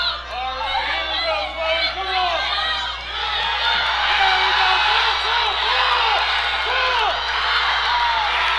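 Loud crowd at a collegiate powerlifting regional meet cheering and whooping after a successful lift, with a mix of shouts and chatter swelling into sustained roaring applause that stays strong to the end.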